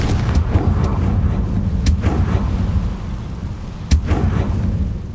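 A spell explosion, Confringo, in Hogwarts Legacy bursts with a couple of sharp booming blasts over a loud rumbling game background, fairly close and forceful.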